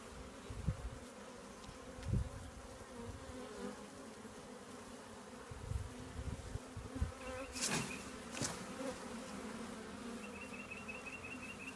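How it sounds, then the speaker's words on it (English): Honeybees buzz steadily during a hive installation as a bee cluster is shaken from cardboard into the box, a dense droning swarm with a few sharper bumps and knocks from handling. "There's a big bee ball that was on the bottom of that cardboard."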